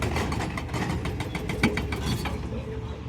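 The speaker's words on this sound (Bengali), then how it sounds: "আর এই যে পাথর গাড়িটা রাস্তা বানাচ্ছে।" A road construction vehicle works on a mountain road, clearing fallen rocks; its engine idles and rumbles steadily and fairly close throughout, with faint scraping and knocking on top.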